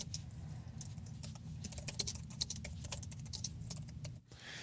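Steady fast keystrokes on a computer keyboard while code is typed, close and fairly quiet, an even stream of clicks running without pause and no talking.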